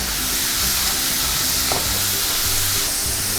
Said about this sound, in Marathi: लसूण परतून घ्यायचं आहे